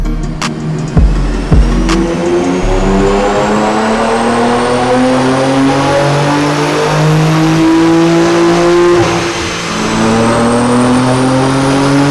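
A BMW X3 M / X4 M engine revs hard on a dyno and holds at high RPM, a loud sustained roar with rising harmonics, preceded by a couple of sharp pops; no voices.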